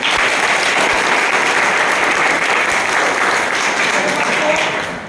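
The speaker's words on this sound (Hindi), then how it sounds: "जोरदार ताली बजाओ" Loud, steady applause from an audience, many hands clapping continuously and tapering off at the very end.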